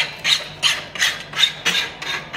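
A rasp files a horse's hoof in six quick, even strokes, each a close, gritty scrape with brief pauses between them.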